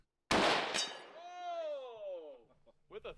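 A sharp video game gunshot crack followed by a long ringing metallic clang as the target is struck, fading out, then a brief voice.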